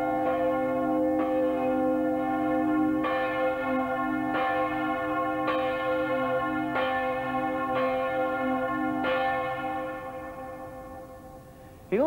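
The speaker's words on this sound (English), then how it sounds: "It may sound a bit like a peal of bells" A single large tenor church bell, the largest of its peal, tolls slowly and steadily, about once every second and a half, each deep stroke ringing on until the sound fades near the end.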